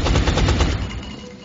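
Automatic gunfire from a soldier taking a shot in XCOM: Enemy Unknown, a loud, close burst of rapid shots that fades over about a second and a half.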